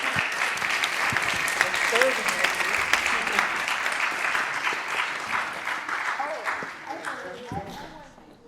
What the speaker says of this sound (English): thank the panel again, and one more round of applause